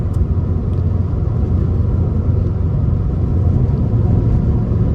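A 300,000-mile Subaru WRX Bugeye with a factory downpipe is driven on the road, its engine droning in a steady, loud low rumble from inside the car.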